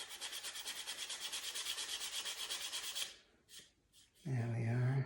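A surface is sanded down by hand in quick, even back-and-forth rubbing strokes, close and rhythmic for about three seconds, then stops, followed by a couple of faint handling sounds and a brief low hum or voice.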